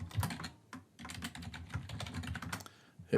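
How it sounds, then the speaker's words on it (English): Quick bursts of keystrokes clatter on a computer keyboard as a search term is entered, close and soft, with a brief pause before a final louder tap. "in the search bar, you want to type in business communication"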